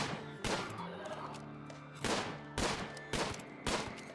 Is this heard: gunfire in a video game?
yes